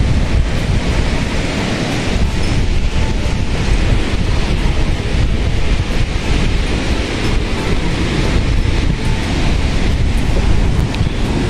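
Sea waves rolling in at the shore under a gentle northeast monsoon breeze, a steady broadband wash of surf with wind rumble on the microphone, continuous and fairly loud with no speech.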